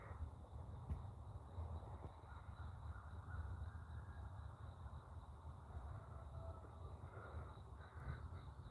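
Crows cawing at sunrise outdoors, faint and distant over a steady low rumble of ambient noise, with occasional calls across the stretch.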